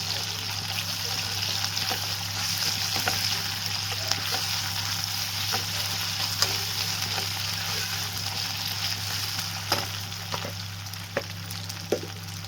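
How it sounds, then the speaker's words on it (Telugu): Ginger paste frying in hot oil with chillies, onions and mustard seeds: a steady, even sizzle that runs the whole time, with a few faint crackles and ticks and no voices. "ఇదిగోండి, అల్లం పేస్ట్ వేసుకోవాలి సరిపడే అంత."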